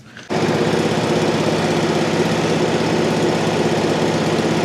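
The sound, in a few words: welder generator engine running on auto idle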